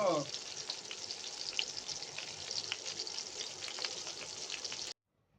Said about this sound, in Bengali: এই যে আমরা চিংড়ি মাছ ভাজি করলাম